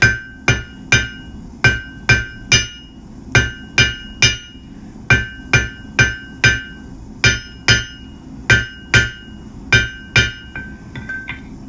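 A hammer striking hot steel on an anvil while a J hook is forged and its tip tapered, sharp ringing blows landing in a steady rhythm, close and loud, with a few quick double strikes.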